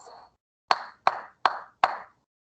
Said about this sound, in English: If you clap it, it sounds like this.